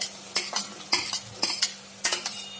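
Potato pieces stirred in a frying pan for a fish-head muri ghonto give about five sharp scraping strokes in an uneven rhythm, with a soft sizzle underneath, close by and without talk.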